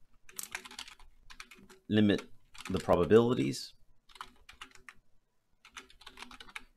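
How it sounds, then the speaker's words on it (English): Clacky computer keyboard typing in quick, light bursts of keystrokes throughout, interrupted in the middle by a person speaking, with more scattered clicking afterward. "Sorry, I got a little bit of a clacky keyboard."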